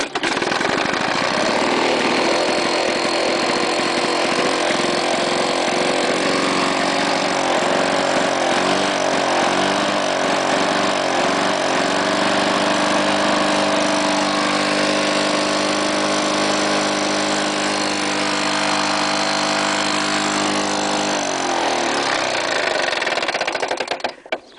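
A salvaged lawn mower engine pulled from a trash-pick find runs steadily after being pull-started, a loud continuous engine drone with some uneven throttle changes before it cuts off at the end.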